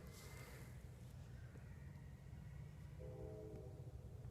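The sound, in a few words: train passing in the distance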